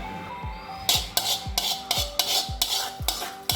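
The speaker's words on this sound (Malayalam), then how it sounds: "അപ്പോൾ നമ്മുടെ കടുക് വറുത്തത് കപ്പയിലേക്ക് ഇട്ടിട്ടുണ്ട്. നന്നായിട്ടൊന്ന് മിക്സ് ചെയ്ത് കൊടുക്കുക." A spoon scrapes rhythmically through boiled tapioca mixed with fried mustard seasoning, roughly eight regular strokes in under four seconds, close and clear with no talking.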